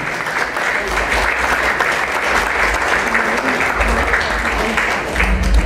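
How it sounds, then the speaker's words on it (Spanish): Guests at a quinceañera ceremony break into loud, sustained applause for a minister, many hands clapping in a thick, even roar from start to finish. "Un fuerte aplauso"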